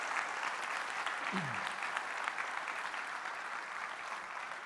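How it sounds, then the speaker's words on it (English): Audience applause at Flight Sim Expo 2025, a broad, even wash of clapping from a large hall lasting several seconds, with a voice briefly speaking over it. "let's give ourselves and everybody a big round of applause for making the show happen"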